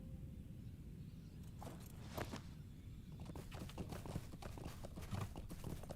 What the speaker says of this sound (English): Hop on my horse.